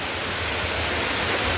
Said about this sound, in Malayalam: ബാക്കിൽ കണ്ടോ വെള്ളം